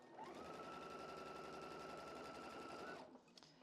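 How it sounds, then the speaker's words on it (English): A sewing machine stitches quilt sections together, a fast steady mechanical rattle running for about three seconds before stopping abruptly, followed by a few faint clicks and handling sounds, with no talking. "One more set to sew together and we are done."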